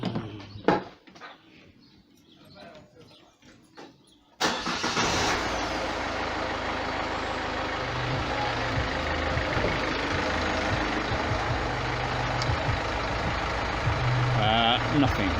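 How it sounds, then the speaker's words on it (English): A car engine turns over at about four seconds and settles into a steady, loud idle that runs to the end, preceded by a few scattered clicks and faint background sounds. "we'll start the car and we'll see what we get"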